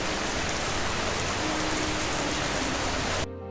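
Rain falling in an animated Hindi village story, a dense, even hiss of heavy rainfall on surfaces, loud and unbroken before cutting off abruptly near the end.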